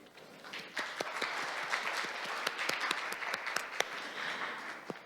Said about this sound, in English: I think we owe all participants a round of a big applause.